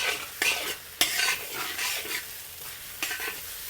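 Garlic shrimp egg fried rice being stir-fried in a wok: steady sizzling under repeated sharp scrapes and clacks of a spatula against the pan, close and lively.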